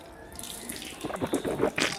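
Tap water runs from a faucet into a sink during wudu ritual washing, a steady splashing stream that grows louder and more uneven as hands move under it, with no talking.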